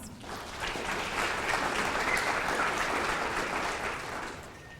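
An audience claps for a judge being introduced at a children's pageant, the applause swelling after a quiet start, holding steady, then easing slightly at the end.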